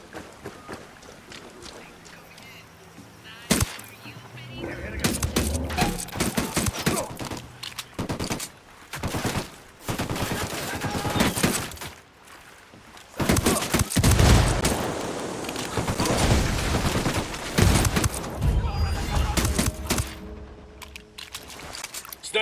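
Gunfire during a cartel firefight in the video game Ghost Recon Wildlands, with bursts of shots and explosive cracks over rushing water and boat noise, loud and dense, with voices shouting over the action.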